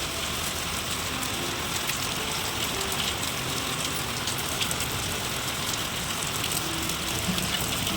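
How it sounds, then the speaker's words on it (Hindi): Steady light rain pattering on a surface in a village at night, a soft continuous hiss with scattered drops, no voices. "बारिश अभी भी हो ही रही थी हल्की हल्की"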